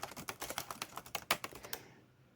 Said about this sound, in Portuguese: E, nossa, uma máquina de escrever.